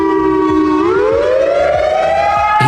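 A civil defense siren wails loud and alone, its tone holding low and then sliding steadily upward into a higher rising howl.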